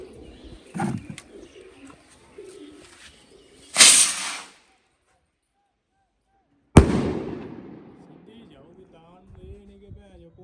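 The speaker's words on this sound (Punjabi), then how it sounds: "ਕੋਈ ਆਲੂ ਬੰਬ ਵਾਲੀ ਕਹਿੰਦਾ ਆਵਾਜ਼ ਬਹੁਤ ਹੈ" Two sharp, loud aloo bomb firecracker bursts crack outdoors a few seconds apart, set off to scare eagles, with faint bird calls and murmured background sounds between them.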